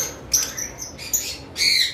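Caged lovebirds giving sharp, loud squawks and chirps in three quick bursts, close by, with no talking.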